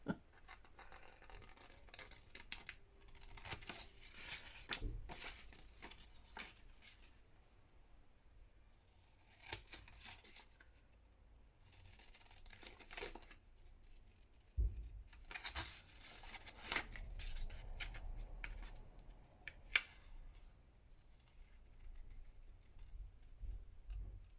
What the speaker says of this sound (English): Talk amongst yourselves while I concentrate on fussy cutting.